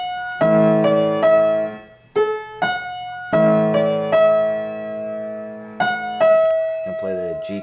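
Piano chords played one after another, each struck clearly and left to ring briefly before the next, with a short melodic run near the end.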